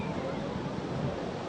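Ocean waves rolling in at a crowded summer beach during a heat wave, a steady, loud wash of surf with no breaks, close and continuous, with no voices.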